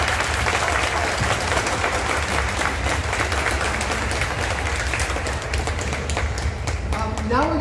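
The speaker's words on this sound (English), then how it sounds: "Let's give them one more round of applause." An audience at a high school end-of-year concert gives steady applause, a dense continuous wash of clapping, with some crowd murmur and a brief tonal sound near the end.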